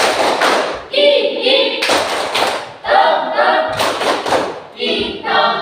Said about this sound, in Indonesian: Tepuk terima kasih.